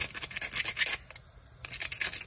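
Dirt being scraped off mussel shells by hand, a run of quick close scratching strokes, a brief pause, then more rapid scraping.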